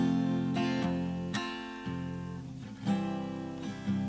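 Dry acoustic guitar with no effects applied, recorded in Cakewalk NEXT: strummed chords ring out with several sharp attacks and sustained tones, up close and alone.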